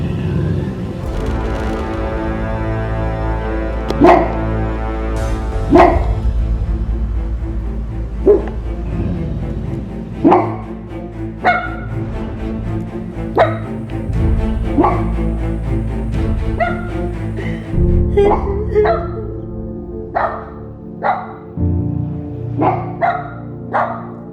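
Agitated dog at a home, barking repeatedly in loud, close bursts, with growling and whimpering between barks over a sustained stretch.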